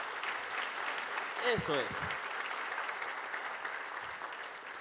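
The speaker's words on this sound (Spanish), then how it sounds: "Démosle un fuerte aplauso al Señor" A church congregation gives sustained applause to the Lord, an even, continuous wash of many hands clapping, with a voice briefly speaking over it.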